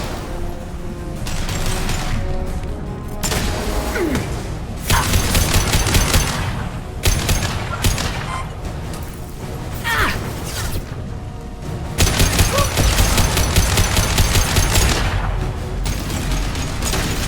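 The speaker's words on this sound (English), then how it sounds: "Watch for heavy fire." Heavy gunfire in Mass Effect 2 during a combat sequence: sustained automatic bursts and rattling fusillades come in waves, loud and close, broken by short pauses, with booms and mechanical clatter mixed in.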